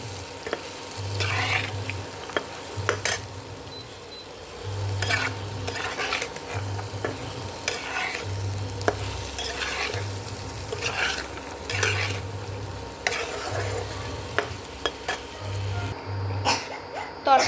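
Spiced curry with cumin powder, salt and ground spices sizzles and fries in a pan while a utensil scrapes and stirs in repeated strokes, with a low rhythmic hum underneath.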